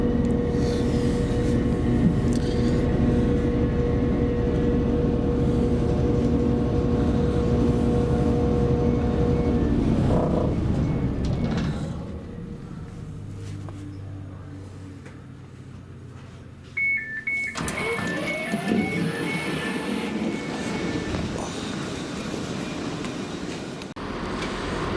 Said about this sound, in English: this is our train home